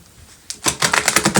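Tarot cards pulled and riffled from a deck, a quick burst of crisp, close paper flutters after a brief quiet start, fast and even in rhythm with no voices.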